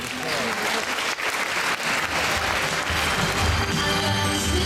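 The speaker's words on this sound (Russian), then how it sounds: "Аплодисменты партнеров второго Забайкальского кинофестиваля «Супругов». Бандишов, Елена и Александр." Sustained applause from an audience at the awards ceremony of the second Zabaikalsky film festival, a dense steady clatter of many hands that holds at full strength from start to finish.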